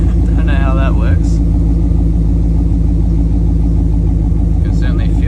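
A 5-litre Holden VT Clubsport V8 idles with a new muffler fitted, a loud, steady, throbbing low rumble with constant exhaust pulses, heard close up with a voice speaking briefly over it.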